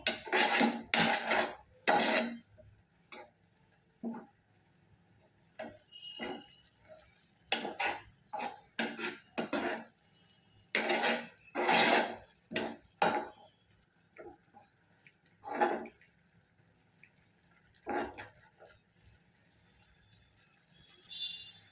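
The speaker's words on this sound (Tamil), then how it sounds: "பால் வத்துற வரைக்கும் கிண்டிக்கிட்டே இருக்கணும், இல்லைன்னா அடி பிடிச்சிடும்" Milk in a pan being stirred continuously as it reduces: close, irregular bursts of a spoon scraping and knocking against the pan, with short quiet gaps between strokes and no talking.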